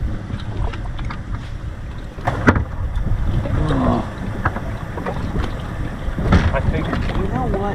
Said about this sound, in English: Wind's blowing down here